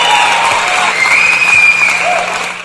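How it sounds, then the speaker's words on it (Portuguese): Applause added in post-production to a podcast, a steady, dense wash of clapping that plays alone for the whole stretch, with a faint crowd murmur underneath, and fades out at the end. "pessoal da edição, por gentileza, uma salva de palmas aos nossos Ao Pé do Ouviders"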